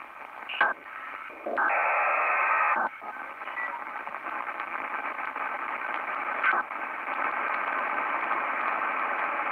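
Shortwave radio static from a Sony ICF-2001D tuned to the marine band hisses steadily, broken by brief bursts and crackles as the signal shifts, noisy and continuous throughout.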